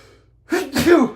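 A single sharp sneeze bursts out after a brief quiet, loud and close, with a breathy intake leading into the explosive release.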